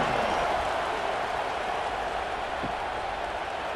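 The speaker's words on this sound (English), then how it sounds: "this crowd is buzzing after that last score" A stadium crowd at a college football game buzzes and cheers in a broad, steady roar, heard at a moderate distance as a continuous wash of voices and scattered clapping without distinct individual calls.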